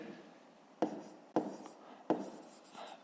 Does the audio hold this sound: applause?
no